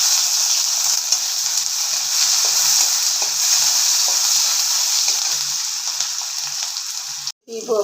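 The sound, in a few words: chopped onion, garlic and green chilli frying in a pan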